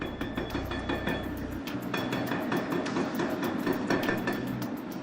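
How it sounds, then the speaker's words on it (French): An excavator's hydraulic breaker hammers the base of a prison watchtower during demolition, a loud, fast run of metallic strikes over heavy rumble and clatter. "Au volant de l'excavatrice équipée du marteau hydraulique, Léo s'attaque au pied du Mirador."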